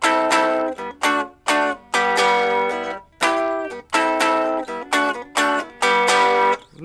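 Loog Mini electric guitar on a clean setting through its small built-in speaker, strummed in short chord bursts with brief pauses between, a bright close tone with no voices.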